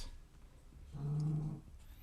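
A dog gives a single short, low growl lasting about half a second, faint and fairly close in an otherwise quiet room.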